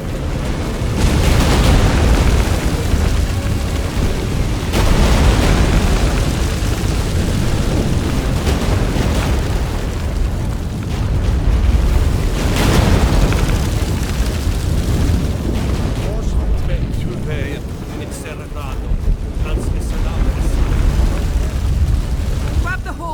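Deep, heavy rumbling of an earthquake in The Witcher III, loud and sustained with rolling surges and booming bursts that swell and fade several times, under occasional voices.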